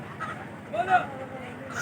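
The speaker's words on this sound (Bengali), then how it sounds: "এখানে শুধু দেশি হাঁস মুরগি কবুতর প্রচুর পরিমাণ হাঁস মুরগি" Native ducks and chickens at a busy village poultry market, with scattered honks and squawks rising briefly above a steady murmur of people talking nearby.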